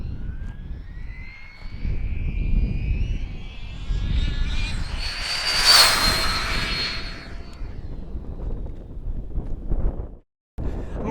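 A Traxxas Slash 4x4 RC car, built for 100 mph speed runs, makes a speed pass on a road, its high-pitched motor whine rising and sweeping past around the middle amid steady wind noise outdoors.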